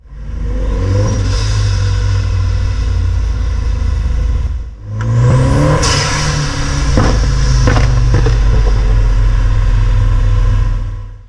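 A Nissan Silvia S15 Spec R pulls away under hard acceleration, its loud engine note climbing through revs, dipping briefly at a gear change, then rising again alongside road rumble.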